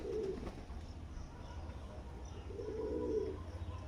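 Pigeons kept for sale at a Baruipur loft coo in low, throaty bursts: a short one near the start and a longer, fuller one toward the end, over a steady background hum.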